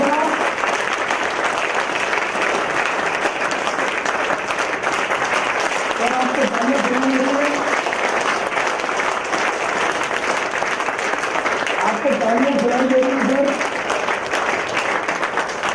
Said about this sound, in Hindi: खड़े होकर तालियां बजाएंगे सर